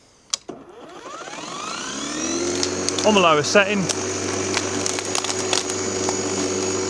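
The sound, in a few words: ETOOLAB M13 battery powered lawnmower running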